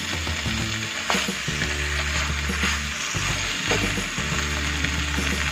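Chicken coated in spices frying over a high flame for a gravy chicken dish, a dense continuous sizzle with scraping stirs and clinks, loud and close throughout with no talking.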